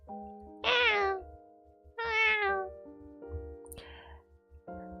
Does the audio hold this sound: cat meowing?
yes